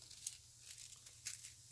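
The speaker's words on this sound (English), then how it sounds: "I'm gonna grab a piece of foil" A piece of aluminum foil torn and crinkled close up, heard as a few quiet, brief crackling rips.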